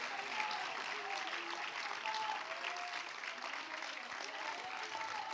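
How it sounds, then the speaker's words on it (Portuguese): A church congregation applauds during a sermon: continuous, fairly distant applause held at an even level for several seconds, with faint voices underneath. "Quem é que pode aplaudir com toda a sua força, coragem, intenção, que Jesus é realmente a excelência"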